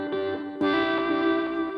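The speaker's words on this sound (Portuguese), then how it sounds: "E no solo, quem rouba a cena é esse efeito que parece um filtro, né?" Electric guitar solo played through a filter-style auto-wah effect pedal. Sustained notes sweep with a vocal, wah-like filter, rich in harmonics and heard alone with no talking.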